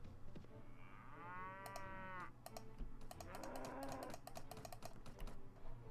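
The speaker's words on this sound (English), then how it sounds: "Some cattle here." Cattle moo in Mount & Blade Warband, with one long low moo followed by further mooing over a faint rural background, mixed with a rapid clatter of computer keyboard typing.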